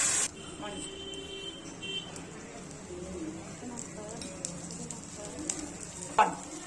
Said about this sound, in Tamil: தோசைக்கல்ல சூடானதுக்கப்புறம் மாவு இந்த மாதிரி ஊற்றுனீங்கன்னா மொறுமொறுன்னு வரும் தோசை.